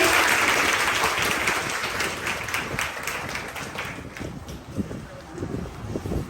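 A loud round of applause from an audience at a gathering honouring a special guest, dense continuous clapping that is strongest at the start and thins gradually, with some wind-like rumble underneath.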